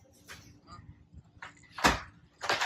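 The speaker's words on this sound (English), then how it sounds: "I'm gonna go ahead and lock the door." A house door being locked in an empty home in Los Angeles: a couple of sharp latch clunks, the loudest near the end, over a quiet room with faint background noise.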